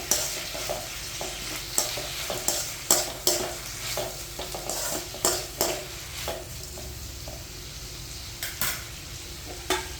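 Tomatoes being sautéed in a pan for a tamarind curry with bitter gourd, giving a steady sizzle broken by repeated scrapes and stirs of a utensil against the pan, close up and with no talking.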